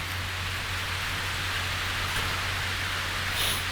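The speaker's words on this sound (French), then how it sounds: "où il pleut très fort" Heavy rain falls steadily in a dense, even hiss that stays uniform and moderately loud throughout, with a faint low hum beneath and no voices.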